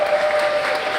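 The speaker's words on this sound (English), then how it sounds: "Give him a huge round of applause." Audience applause for Corbin at an MLH Hackcon organizer conference: a dense, steady wash of many hands clapping together, loud and continuous through the moment, with a faint steady tone underneath.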